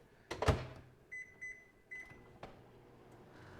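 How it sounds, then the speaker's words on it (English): A home microwave oven powered by a backup battery unit: a sharp clunk of the door followed by a series of short electronic beeps and soft clicks, close and quiet, with no talking. "Runs the microwave fine."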